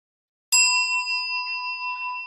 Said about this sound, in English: I got my official bell. Even though I'm out of uniform, I can still ring a bell.